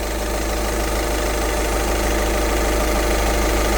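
A Seat Leon engine idles with its air-conditioning compressor running, producing a steady, loud, close mechanical hum and rattle that stays even throughout with no voices.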